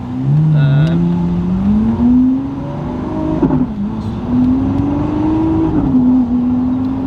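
A GINTANI-tuned supercar engine drones loudly from inside the cabin, its pitch rising and falling as the car accelerates and shifts.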